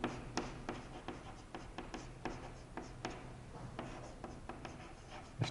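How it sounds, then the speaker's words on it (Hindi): Someone writes out a geometry proof on lines and angles, producing a quiet run of short, brisk writing strokes and taps at an uneven rhythm, with no voice. "तो यहां लिखता हूं BOC"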